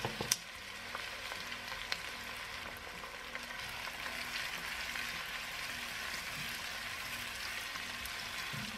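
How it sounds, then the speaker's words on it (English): Diced carrots and onion sauté in olive oil over low to medium heat, giving a soft, even sizzle with scattered small pops and ticks that stays quiet and steady throughout. "I'm going to add in my diced carrots and diced onion"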